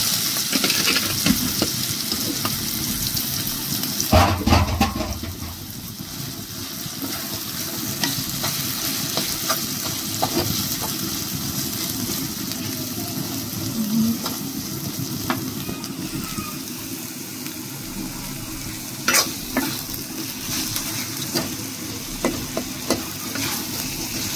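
Red amaranth greens fry in a pan with plenty of garlic. A steady soft sizzle runs underneath as a spatula stirs and scrapes in irregular bursts, close by, with no talking.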